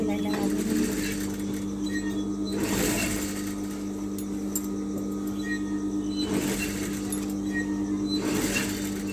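A sewing machine stitches a round-neck blouse, running in a steady whirring drone with a few louder bursts as the fabric is fed through, while someone talks over it.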